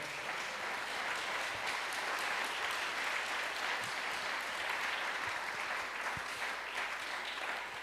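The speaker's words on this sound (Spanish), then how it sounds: "dele otro aplauso al Señor" A church congregation gives another round of applause to the Lord during a Spanish-language sermon, dense, even clapping sustained from start to finish at moderate distance.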